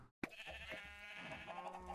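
A sheep in the Minecraft video game gives one drawn-out, wavering bleat, loud and close, starting abruptly after a brief silence and filling the rest of the moment alone.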